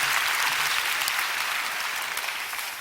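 Steady, dense clapping from a church congregation during a sermon at a prayer conference, sustained at an even level throughout with no speech.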